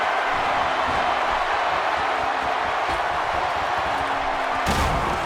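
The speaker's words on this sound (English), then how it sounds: "This crowd going crazy for Stone Cold Steve Austin, who wants to go to WrestleMania." A WWE 2K16 arena crowd roars in a steady, dense wash of cheering that carries on unbroken throughout, with a brief louder swell near the end.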